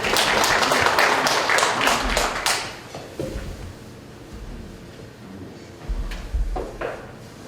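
Applause from an audience bursts out at a factory quality competition presentation. It is loud and dense for about two and a half seconds, then thins into scattered claps and thuds.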